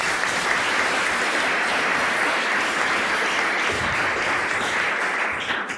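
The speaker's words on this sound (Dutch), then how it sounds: "Mag ik applaus?" Evening lecture audience claps for the speakers, a loud, even wall of applause lasting nearly six seconds, easing slightly at the very end.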